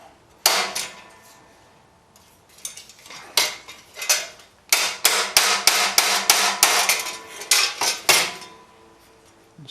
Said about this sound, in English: Tapping with the hammer here.